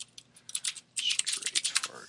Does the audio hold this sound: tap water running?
no